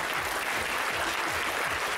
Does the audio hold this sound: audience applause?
yes